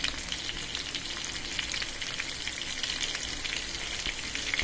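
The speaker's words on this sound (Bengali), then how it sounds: "এগুলো হয়ে গেলে কষানো হয়ে গেলে তারপর মাছগুলো দিয়ে দিব।" Tomato masala is sautéed in a pan before fish is added. It gives a dense, steady frying sizzle that stays close and constant throughout, with no talk.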